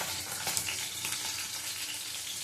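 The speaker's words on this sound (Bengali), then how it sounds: "ওই পাশে মাছটা ভাজা হচ্ছে" Tilapia fish frying in oil in a pan, a soft, steady sizzle with light crackles, fairly quiet and alone.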